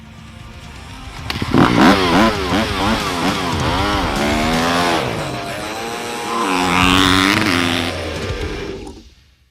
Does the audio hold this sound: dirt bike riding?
yes